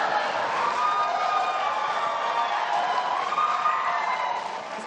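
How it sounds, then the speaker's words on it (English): Audience at a presidential debate between Donald Trump and Hillary Clinton breaking into sustained cheering and applause, a dense crowd roar that holds steady for several seconds before easing slightly. "Please do not applaud."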